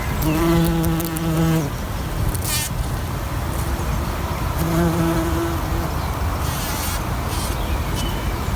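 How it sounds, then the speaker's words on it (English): Bees buzz among comfrey flowers outdoors, close droning hums that come and go in separate kazoo-like passes, with a softer background buzz in between. "this is what I mean by bees in comfrey"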